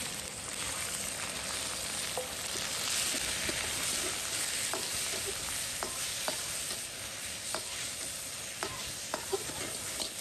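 Meat sizzling in hot oil at a campsite, a steady crackling fry with occasional sharp pops and stirring clicks, fairly close and with no talk.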